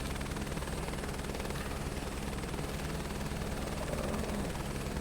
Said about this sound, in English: this H-125 helicopter that I'm flying right now